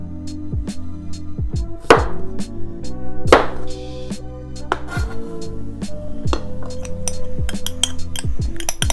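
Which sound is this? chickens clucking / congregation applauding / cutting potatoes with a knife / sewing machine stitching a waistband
cutting potatoes with a knife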